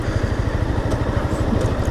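A 2015 Honda CBR 300R motorcycle engine runs close by with a rapid, pulsing low exhaust throb and a slight uneven flutter, loud and alone.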